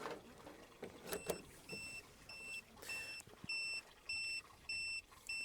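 An ALLPOWERS R2500 portable power station gives repeated short electronic beeps in an even rhythm, high-pitched and clear, preceded by some rustling and handling noise in a quiet room.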